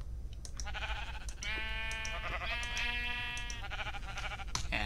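Sheep bleat in the Lego's Island video game, several overlapping drawn-out calls close and clear, with brief gaps between bursts.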